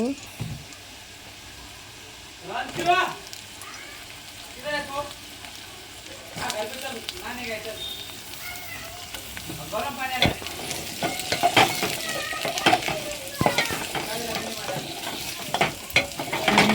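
Potatoes sautéed with onion and green chilli in a pan, a steady sizzle beneath a person talking, then the scrapes and clatter of stirring grow louder and busier in the final seconds.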